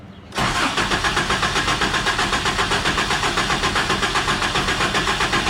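A Toyota 4Runner engine cranks steadily after a brief quiet start, the starter churning in a fast, even rhythm for several seconds without catching.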